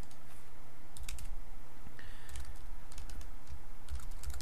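Typing on a computer keyboard while entering text into a Teespring design, a steady run of close, quiet key clicks with small bursts and pauses, no talk.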